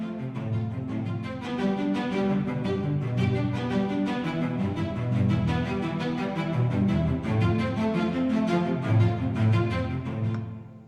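Two orchestral cellos programmed in FL Studio play a steady arpeggio in panned octaves, one lower and one higher, a continuous rolling pattern with no talk.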